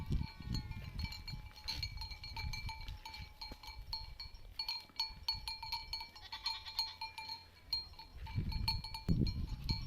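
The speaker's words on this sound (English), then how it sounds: "The goats are climbing the hill." Goats bleat now and then amid a steady jangle of cowbells and light wind, outdoors in the mountains, the animals fairly close.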